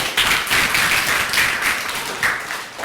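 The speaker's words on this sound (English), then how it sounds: "Can I have a clap for this?" An audience at a financial-education seminar breaks into clapping, a dense, fairly close round of claps that swells and dips for a few seconds with no talk over it.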